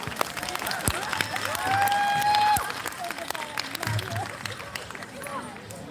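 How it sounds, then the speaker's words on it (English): Moderate audience applause at an India Day event after a semi-classical Bollywood dance is introduced, with steady clapping mixed with crowd murmur and a brief tonal whistle-like sound partway through. "So a warm round of applause,"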